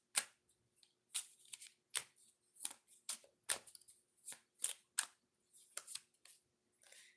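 Tarot cards are shuffled and drawn up close, with a quiet series of quick, crisp riffling flutters and slaps at an uneven pace.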